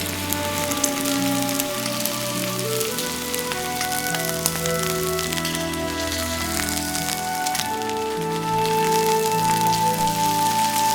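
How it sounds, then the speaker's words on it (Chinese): Shrimp frying in hot cooking oil make a dense, steady sizzle like rain on a surface, loud and close throughout, alone with no talking. "在锅中淋入食用油，5成热的时候下入虾仁儿"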